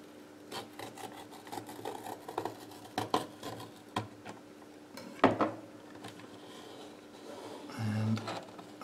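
A knife scores along the seam of a moldy VHS tape label in a series of close, scratchy rasping strokes of uneven rhythm, with a sharper scrape midway and a brief rougher burst near the end.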